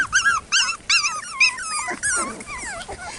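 A six-week-old F1 Cockapoo puppy growls and yips in a litter at a family farm, with several short, close bursts of high, squeaky puppy vocalising in quick succession.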